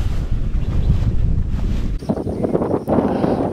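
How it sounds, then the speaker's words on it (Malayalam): Strong wind on a forested hilltop roars and buffets the microphone in continuous loud gusts, with no talking. "എനിക്ക് നല്ല കാറ്റ് വീശുന്നുണ്ട്."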